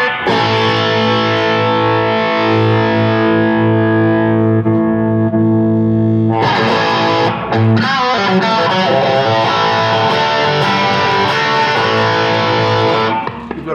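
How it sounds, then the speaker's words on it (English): Electric guitar through a Blackstar ID Core amp with crunchy distortion and a touch of reverb: long sustained chords ring out, then a busier run of strummed and picked notes, loud and alone. "kind of crunch with a little bit of reverb on"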